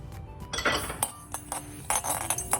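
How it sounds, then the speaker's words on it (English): Mustard seeds spluttering in a hot kadai as the last step of frying for a Coorg-style spicy pork curry: a dense run of sharp crackling pops and clinks with no talk. "for it to splutter, it will not take time when the kadai is really hot"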